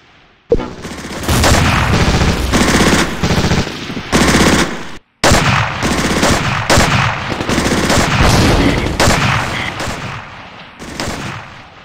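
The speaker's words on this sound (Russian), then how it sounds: "Продолжайте стрельбу!" Sustained machine-gun bursts and rifle fire in a Stalingrad-set war video game, loud and dense, with booming impacts, a brief break near the middle, then continuous firing.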